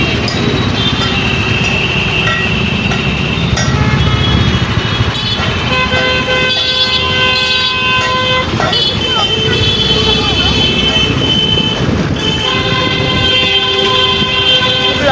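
A traffic jam builds on an uphill bridge in a busy market area. Car and truck horns honk over and over at close range, some in short toots and some held longer, above a constant rumble of engines with voices talking underneath.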